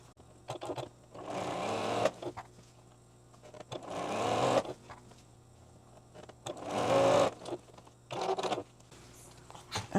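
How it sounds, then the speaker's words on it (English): A sewing machine stitches fabric strips for a quilt in several short bursts of rapid stitching, separated by pauses with faint handling noises, fairly close. "We'll take these to the sewing machine and finish up these strips."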